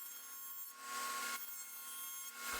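A table saw blade running against a sacrificial fence cuts dados through wood pieces for a drill charging station, making a loud, continuous high whine that rises and falls as the stock feeds through, close and with no talk.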